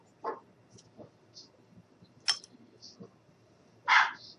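A few short, sharp dog barks scattered across a quiet moment, separated by pauses, with faint background noise between them.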